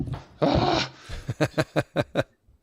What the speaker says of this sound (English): When you have one dog, it's one thing, but when you have two and they're actually egging each other on.